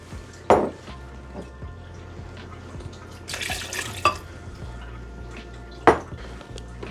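Water poured into a blender mixture of corn syrup and other ingredients for a cordyceps nutrient broth, a soft trickling pour under a low hum, broken by a few sharp clinks of glass and a brief louder splash.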